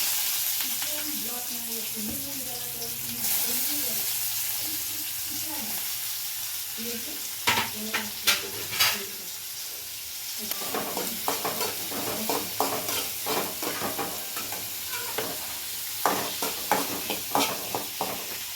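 Onions frying in a pan with sunflower oil, a steady sizzle under early speech, then sharp scraping stirs and clatters of a spoon against the pan come repeatedly through the second half.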